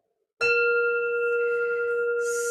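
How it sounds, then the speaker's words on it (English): A single strike on a meditation bell opens a silent sitting, ringing out with clear sustained tones that hang steadily and fade only slightly, close and alone. "I always like to start with my gorgeous, beautiful bell."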